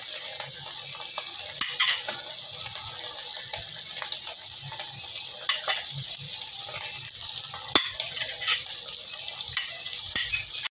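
Potatoes and raw tomatoes sautéing in a pan for a vegetarian curry, a steady close sizzle with scattered stirring scrapes and clinks throughout, and no talk.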